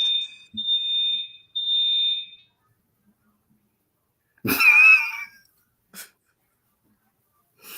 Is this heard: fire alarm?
yes